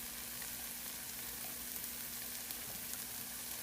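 Eggs topped with melting cheese fry in a pan, giving a steady close sizzle and crackle throughout with no voices.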